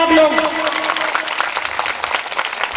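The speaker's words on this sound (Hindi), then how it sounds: "जोरदार तालियां बजाएंगे आप लोग" Crowd applause at a village Raslila stage performance in Mathura, loud continuous clapping from many hands with a voice heard at the start and traces of talk beneath.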